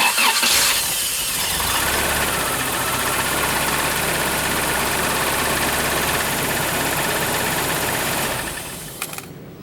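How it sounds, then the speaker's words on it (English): A Toyota Celica's engine cranks and catches, then settles into a steady, loud idle that runs for several seconds before cutting off abruptly. "let's give it another shot at firing up the car and seeing how it runs"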